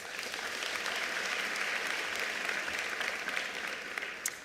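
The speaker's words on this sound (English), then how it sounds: "Can we please give them a round of applause?" At the ministerial announcement of national exam results, an audience gives a round of applause for Umalusi, the quality-assurance body. The clapping is a steady, moderately distant wash from a sizable crowd.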